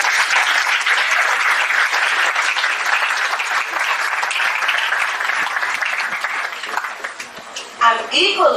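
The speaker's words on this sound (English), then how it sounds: "So please give yourselves another round of applause." A large room of guests at a Motown Museum honors event bursts into steady, dense applause that holds strong for most of the stretch, then tapers with scattered claps and a brief voice near the end.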